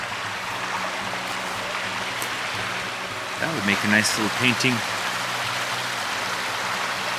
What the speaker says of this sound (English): It's a pretty little creek running through here.